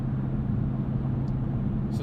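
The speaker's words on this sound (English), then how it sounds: "It's just a little bit of that exhaust drone." 2020 Dodge Durango SRT exhaust droning while driving, a steady low-pitched rumble heard from inside the cabin, constant and moderately loud with no voices.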